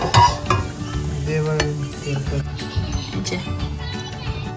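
Nigella seeds and chopped green chilli hit hot oil for a tempering in a home kitchen, giving a loud crackling sizzle with stirring clatter, a voice audible in the background.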